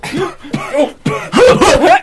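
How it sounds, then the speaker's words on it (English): Several harsh coughing bursts in quick succession, loud and close, growing more strained and choking toward the end. "Wait, coughing! he's choking."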